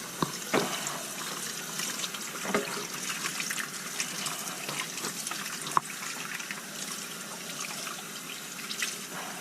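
Carp fillet rinsed under running tap water in a stainless steel bowl, a continuous close splashing hiss with small irregular spatters and one sharp knock partway through.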